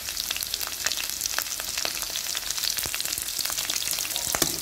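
Chopped onion and capsicum fry for vegetable Maggi, with a steady, close sizzle and crackle and occasional stirring clicks throughout, and no talking.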